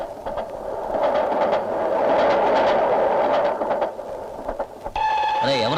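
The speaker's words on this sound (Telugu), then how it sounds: "అయ్యో రైలు వచ్చేస్తుంది" A train pulls into a railway station, its broad rumbling roar filling the platform before a sustained horn-like tone sounds near the end.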